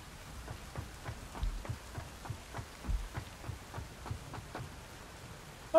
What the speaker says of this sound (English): Ooh, is it raining?